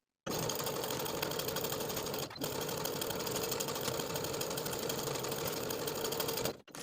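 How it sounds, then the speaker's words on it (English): A sewing machine runs steadily while stitching the bottom curves of a blouse's sleeves, with a 5/8 inch seam, in one continuous close whir broken by a single short pause. "Then we'll sew the bottom curves of both sleeves from one end of the facing to the other with a 5/8 inch seam allowance."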